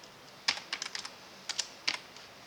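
Computer keyboard keys are pressed in short scattered bursts, a few sharp clicks clustered together then pausing, quiet and close in an otherwise silent room during accounting software data entry.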